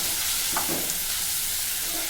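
Tomatoes hit a pan of softened onions for a Tamil banana-flower kofta curry, giving a steady, close sizzling hiss with a brief stirring scrape.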